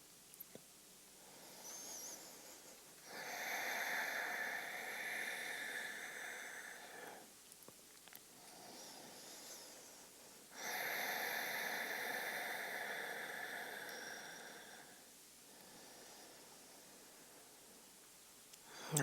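Slow, deliberate breathing while holding a yoga pose: two long airy breaths, each lasting several seconds, separated by a quiet pause, close and soft with faint rustling in between.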